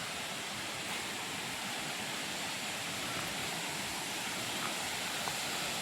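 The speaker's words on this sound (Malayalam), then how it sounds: "വേണ്ട വെള്ളച്ചാട്ടം നോക്കി." A waterfall in a village area of Pathanamthitta, Kerala, gives a steady, dense rushing roar that holds at an even level throughout, with no voices over it.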